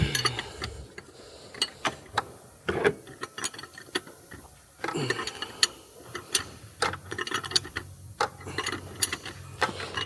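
A long spanner works on a snapped glow plug in an engine, producing irregular metallic clicks and ratcheting ticks in close, quiet bursts, along with scraping and light clanks of the tool against metal.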